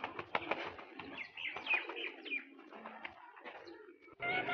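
Fancy pigeons at a breeding farm in Pakistan, several birds giving soft, throaty coos close by with occasional chirps and a brief wing flutter, no voices.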